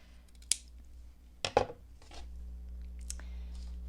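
Scissors snip through sari silk fabric in a few sharp, close cuts spaced apart, with quiet handling between them and no speech.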